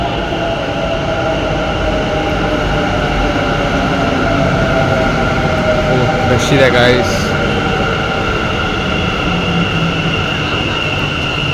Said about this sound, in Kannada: ಮೆಟ್ರೋದಲ್ಲಿದ್ದೀವಿ, MG ರೋಡ್ ಮೆಟ್ರೋ